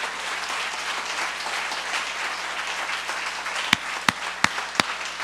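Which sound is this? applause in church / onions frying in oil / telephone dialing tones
applause in church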